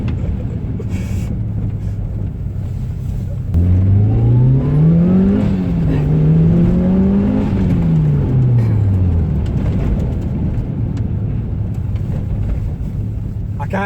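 A Mitsubishi Lancer Evolution 6 engine revs up and climbs through the gears, the exhaust and dump valve rising and falling in pitch against a steady rumble, close by.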